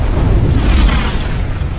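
Loud, rumbling in-game explosion from the video game Die Hard Trilogy, a heavy booming blast with a sustained low roar that fills the clip before cutting off abruptly.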